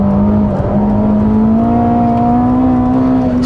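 A Ferrari SF90 Assetto Fiorano driven hard on the Fiorano track, its engine making a loud close, sustained drone that climbs slowly in pitch as it pulls, with no voices over it.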